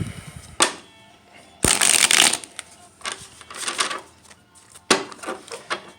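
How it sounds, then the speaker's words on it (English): A deck of tarot cards is shuffled up close in a series of rapid riffling bursts, one long flurry in the middle, with quiet pauses between. "So I've already shuffled this a bunch of times. I'll do it one more time on camera."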